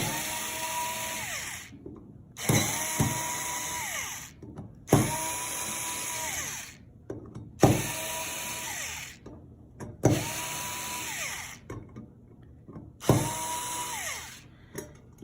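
A power screwdriver turning the screws of a BUD EXN Series enclosure cover a few turns each, six separate whirring bursts of a few seconds with short pauses between them.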